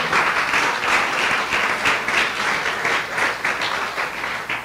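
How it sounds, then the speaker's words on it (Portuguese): Sustained applause from a church congregation, dense steady clapping filling the room for several seconds with no voices over it. "Uma salva de palmas ao Senhor."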